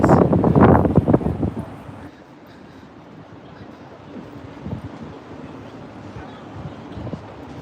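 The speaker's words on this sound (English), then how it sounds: "Oh, it's a little windy up here, guys." Blustery wind on an elevated park in New York City buffets the microphone, loud rumbling gusts at first, then a steadier low rush of moving air.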